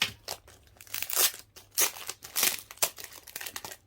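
Crinkly plastic foil of blind-bag merchandise from a Seventeen museum visit being torn open and crumpled by hand, a close, rustling string of sharp crackles and rips in uneven bursts.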